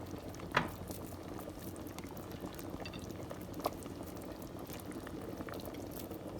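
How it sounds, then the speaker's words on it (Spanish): Eight large meatballs from three pounds of meat simmering in a pot of water, a steady soft bubbling with occasional louder pops, close and fairly quiet. "Y así lo vamos a dejar que hierva"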